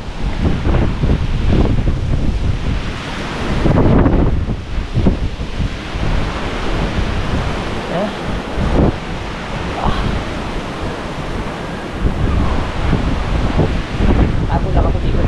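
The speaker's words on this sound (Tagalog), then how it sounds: "Kasi malakas yung hangin pag gumano." Violent typhoon wind at landfall in Batangas roars and buffets the microphone in loud, unbroken gusts with a sharp surge near the start, while a voice speaks intermittently beneath the storm.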